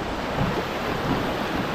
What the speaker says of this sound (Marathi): पाण्याचा फ्लो बघा